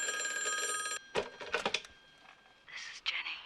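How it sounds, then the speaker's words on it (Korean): A telephone rings with a steady electronic trill for about a second, then stops, leaving rustling movement and brief, faint sounds nearby. "혼란스러운 이때 전화가 한 통이 오는데"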